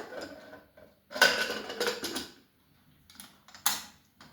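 Metal lid being fitted onto a pressure cooker of dal in a home kitchen, a few close clanks and scraping clicks separated by short pauses, with a voice speaking softly.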